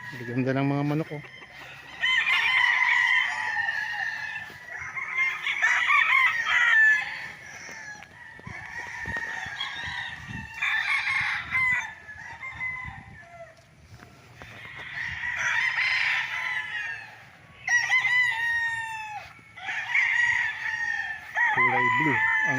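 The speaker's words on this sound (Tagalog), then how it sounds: "Ganda ng mga manok, oh." Chickens and roosters on a fenced farm lot in Pagsanjan, Laguna crow repeatedly in overlapping, nearby calls, with clucking filling the gaps throughout.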